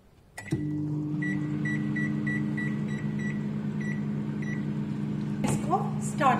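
A microwave oven runs with a steady loud hum while heating a plated homemade pizza, a door clunk at the start and a few faint beeps, ending with another clatter as the door opens.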